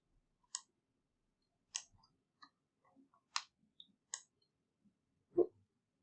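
A computer mouse clicks several times at irregular intervals during work in ArcGIS software, crisp and close with silence between clicks, ending in one duller, heavier click.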